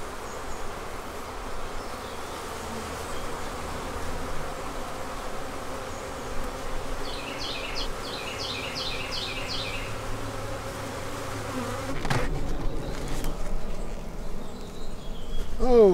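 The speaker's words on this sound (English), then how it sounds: "That's a lot of bees." Dense, steady buzzing of a large honey bee swarm in a bee yard fills the air, with a few brief higher chirps midway and some handling noise near the end.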